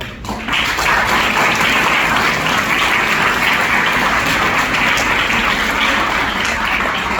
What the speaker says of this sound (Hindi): और एक बार जोरदार तालियां मिली